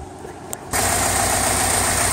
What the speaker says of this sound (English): Okay, I have the engine running now.